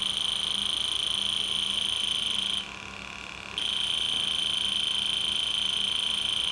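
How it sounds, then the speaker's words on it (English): Fieldpiece SRL2K7 infrared refrigerant leak detector sounding its buzzer alarm, a rapid pulsing high-pitched beep that continues steadily, pauses for about a second, then resumes, heard close without talk. "sweep it by, and you'll see that it goes off"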